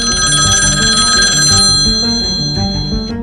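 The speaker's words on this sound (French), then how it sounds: "Soudain, son téléphone sonna." A telephone rings with bright, repeated bell-like electronic tones, loud and near, over a backing of music.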